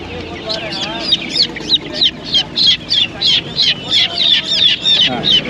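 Chickens at a poultry market in Magadi near Bangalore cluck nearby in a quick, repeated series of short calls, about a dozen in a row, loud and rhythmic over faint background murmur.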